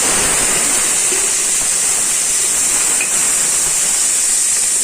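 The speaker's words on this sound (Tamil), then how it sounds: "கடுகு பொரியுதுங்க அந்த மசாலா சாமான்கள்லாம் போட்டுடலாங்க" Mustard seeds splutter in hot oil with whole masala spices for coconut milk rice, a loud, dense, unbroken hiss that holds steady from start to finish.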